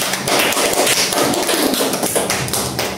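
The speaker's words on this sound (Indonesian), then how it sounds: "Beri aplaus semuanya." Dense, rapid clapping from a classroom group fills the whole stretch in a close, steady patter of many hands.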